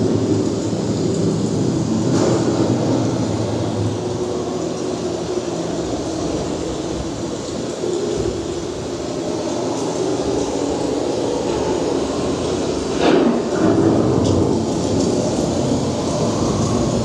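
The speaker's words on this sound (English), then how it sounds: "The approaching storm may seem violent and destructive to us" Simulated thunderstorm effect inside the Living with the Land dark ride at Epcot, a sustained low rumbling roar with a sharper crack of thunder near the end, heard alone without talk.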